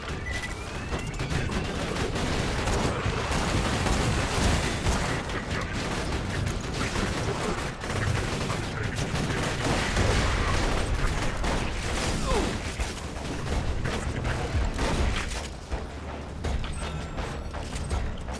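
An automatic turret in Borderlands 2 keeps up dense, continuous gunfire mixed with mechanical clatter and crashes, loud and busy for the whole stretch with no pauses.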